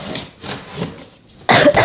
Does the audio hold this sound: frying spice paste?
no